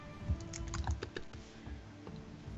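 Quiet typing on a computer keyboard during an art stream, a short irregular run of key clicks and taps with a few heavier strokes, close and soft.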